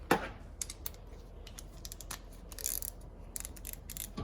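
A ratchet with a half-inch 12-point socket turns a quarter-inch pipe thread tap, producing quiet, irregular clicking ticks up close, with short bursts of rapid clicks.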